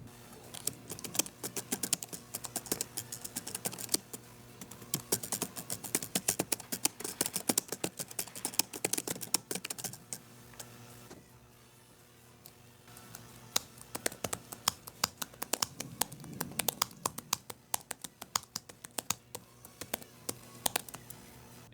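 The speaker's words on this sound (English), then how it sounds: "So we'll just do a quick typing comparison test of the sound here." Keys clatter steadily on the keyboard case of a 10.3-inch Boox Note Air 5C color e-ink tablet, close and clear, with a brief pause midway before typing resumes.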